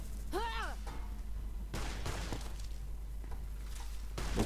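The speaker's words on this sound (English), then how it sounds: "A shotgun to the face will take that thing down pretty easy." Shotgun blasts from the game Fallout New Vegas as a player fires at a rad scorpion: a few sharp, loud booms spaced a second or two apart over a constant low hum, with a brief rising electronic game tone near the start.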